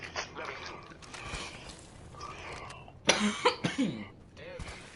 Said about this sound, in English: Yeah, I've been coughing a lot.